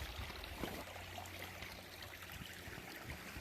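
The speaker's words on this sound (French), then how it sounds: "on ne pourra pas à cause du petit ruisseau qu'il y a là pour traverser l'autre bord" A small stream trickles steadily and close by on a snowy winter hike, a continuous soft watery rush with no talking.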